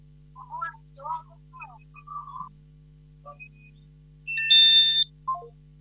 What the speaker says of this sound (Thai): สายหนึ่งเข้ามาใหม่ต้องฟังทางโทรศัพท์เนอะโทรเข้ามานะ